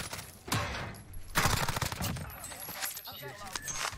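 Pistol gunshots in the Call of Duty Warzone video game come as a few sharp, moderately loud cracks spaced apart among other game noise.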